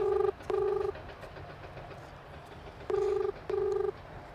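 An Indian phone call rings back with two pairs of short electronic ring tones separated by a long pause, fairly faint against a low background hum.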